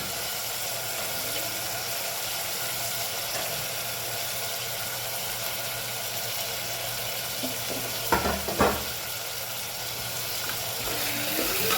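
Vegetables tipped into a tomato masala and stirred, with a steady sizzle under a couple of brief scraping stirs near the end, no talking.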